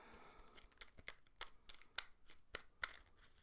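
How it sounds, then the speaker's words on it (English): A deck of playing cards being shuffled by hand for a Lord of the Rings card game, a quiet, close run of irregular riffling snaps and flicks. "Give her another shuffle."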